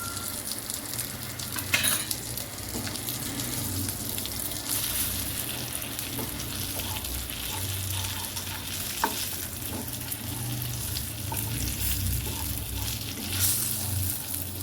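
Pieces of fish sizzle and crackle in a pan with chili powder and garam masala, a continuous close frying hiss with occasional sharper pops and a brief clatter of cookware.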